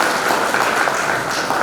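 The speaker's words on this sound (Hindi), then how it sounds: "एक बार जोरदार तालियां बजाएं।" Large crowd of farmers applauds at a sugarcane growers' gathering in Meerut, Uttar Pradesh, a short, loud, dense burst of clapping filling the whole moment without speech.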